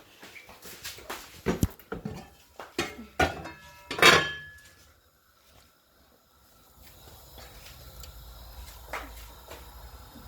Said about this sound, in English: So I'm gonna put this in the pot now.